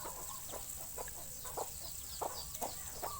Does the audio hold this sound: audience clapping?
no